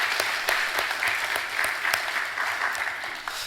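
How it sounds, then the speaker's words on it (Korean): Vigorous congregational applause at a Korean church service, with loud, close clapping and sharp individual claps standing out in an irregular rhythm throughout. "격려와 감사의 박수를 힘차게 드립니다."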